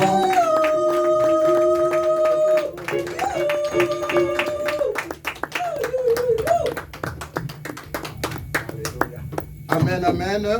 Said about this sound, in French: acclamez très fort, très fort